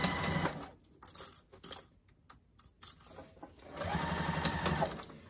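A sewing machine backstitches fabric for a car trash can, running in a rapid mechanical chatter, then breaking into short stop-and-start bursts before running steadily again at close range.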